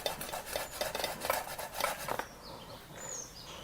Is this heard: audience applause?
no